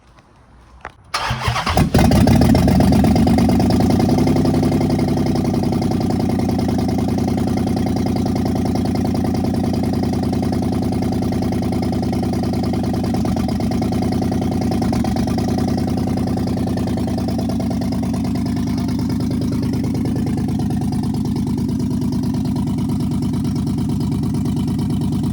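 A 2015 Dodge Charger Pursuit with a 5.7-litre V8 and a misfire starts up, then idles roughly and steadily at close range for the rest of the clip, loud and uninterrupted.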